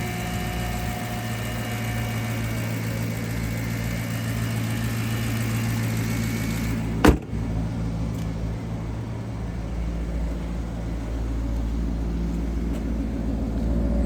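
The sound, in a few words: Maserati GranTurismo engine running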